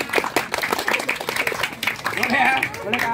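Group of people clapping the 'tepuk masyarakat' clap pattern in bursts, mixed with voices and crowd noise, close and fairly loud throughout.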